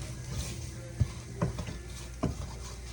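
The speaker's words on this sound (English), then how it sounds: "And then I'm going to mix the flour in with the beef." Flour being stirred into browned beef in a pan, with soft scraping strokes and a few sharper utensil knocks against the pan under a faint background sizzle.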